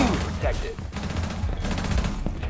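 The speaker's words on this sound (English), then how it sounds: "they're on my team and they keep shooting at me" Gunfire from teammates in Rainbow Six Siege, a dense run of rapid shots with a few louder bursts over about two and a half seconds, close and steady.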